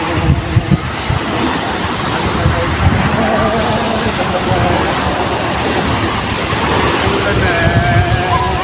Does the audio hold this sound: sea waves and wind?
yes